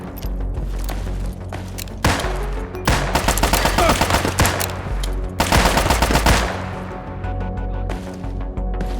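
Loud automatic gunfire erupts in Fallout 3: The Pitt, with rapid machine-gun bursts and sharp cracks clustered over several seconds. A quieter rumbling lull comes before and after the shooting.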